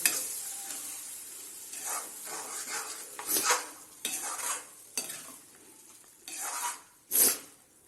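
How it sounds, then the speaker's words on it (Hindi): A spoon scrapes and stirs through thick arhar dal (pigeon pea lentils) in a pan, in repeated bursts with short pauses, close up, with a faint sizzle underneath. "इसको अच्छी तरीके से मिक्स कर देंगे।"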